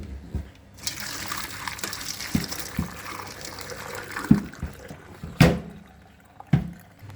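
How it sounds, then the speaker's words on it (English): Boiling water from a kettle poured over potatoes in a pot, heard as splashing liquid and intermittent knocks and clunks, with a louder sloshing pour in the middle and scattered irregular bumps. "I always heat the kettle first for boiling water. This will be utilized throughout the stages of the meal, and it will be used now to take the starch off these potatoes"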